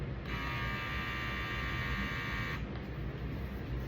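A small pink LadySpot trimmer with a tiny motor runs for about two seconds, a steady high-pitched electric whine over low background hum, then switches off.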